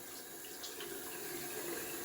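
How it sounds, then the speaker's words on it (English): Tap water running steadily into a sink while the rim of a shaving bowl is rinsed, a soft continuous hiss and splash at low volume throughout. "let's rinse off that rim, so it's not caked in proto lather"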